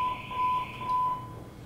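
A steady electronic alarm tone sounds continuously at moderate volume, a single high pitch that pulses slightly without clear breaks, with a faint hum underneath.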